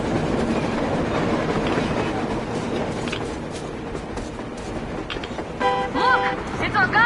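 A train from the Metro video game rumbles past at steady volume, a dense rolling clatter with brief high metallic squeals near the end.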